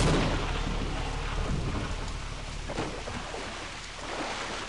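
Thunderstorm in the horror mod They Hunger: a loud, rolling rumble of thunder with heavy rain-like hiss, swelling and fading over several seconds, no voices.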